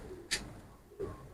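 A female pigeon in an indoor breeding room gives two short, soft coos separated by a pause, heard close but fairly faint against quiet room noise.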